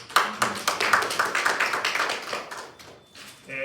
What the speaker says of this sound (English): Let me give you a big round of applause.